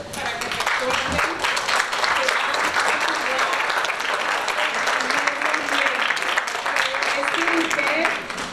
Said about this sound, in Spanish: Se pueden dar un aplauso para que se acuerden.